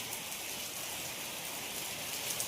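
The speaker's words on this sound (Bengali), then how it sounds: "কত জোরে বৃষ্টি নেমেছে আজকে" Heavy rain pours down steadily outdoors, a dense, even hiss of drops striking surfaces with no pauses and no voices.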